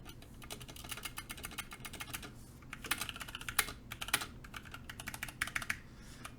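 Fingers type on a carbon fiber 60% mechanical keyboard with a slightly rattly spacebar, making rapid close clacking keystrokes in uneven bursts, a few landing louder than the rest.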